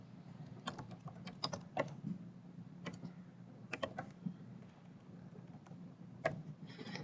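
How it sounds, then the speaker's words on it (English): Clicky keystrokes on a computer keyboard come in short irregular bursts, fairly close but quiet, over a steady low hum, while short code is typed during a React coding session. "I'll just type div."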